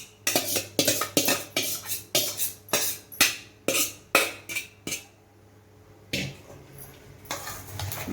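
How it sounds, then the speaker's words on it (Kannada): Raw mango pieces for pickle are tipped into a metal pan, making a fast rhythmic series of sharp clinks and clatters, then a brief lull before a few more scraping knocks. "ಎಲ್ಲ ಮಾವಿನಕಾಯಿ ಹೋಳೆಲ್ಲ ಬಾಣಲೆಗೆ ಹಾಕೋತಾ ಇದ್ದೀನಿ."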